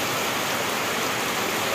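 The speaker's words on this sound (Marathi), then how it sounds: "आज मात्र सगळीकडे पाऊस आपल्याला पडताना पाहायला भेटतोय" Heavy rain falls over soybean fields near Junnar, giving a dense, even wash of hiss that stays steady and moderately loud for the whole moment without any voices.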